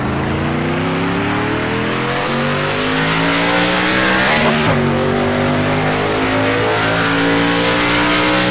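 Several stock cars roar and accelerate together at the green flag in the NASCAR Racing 2003 video game, a loud sustained engine drone with rising overlapping pitches throughout, with a brief sharp swell near the middle.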